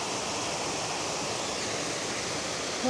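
A mountain waterfall roars continuously, a dense, steady wash of rushing water with no breaks, loud and close, with no voices over it.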